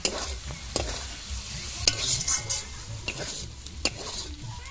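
Fried eggs and cabbage are stir-fried in oily masala, with repeated sharp spatula knocks and scrapes against the pan over a low, steady sizzle.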